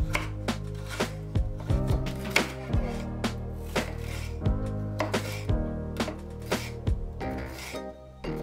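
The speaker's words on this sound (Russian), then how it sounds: "Тем временем нарезаю соломкой морковь и сладкий перец." Knife chopping carrots and sweet bell pepper into thin strips on a board, a steady series of close, crisp cuts with brief pauses, no talk.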